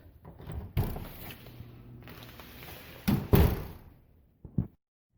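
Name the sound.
old wooden exterior door closing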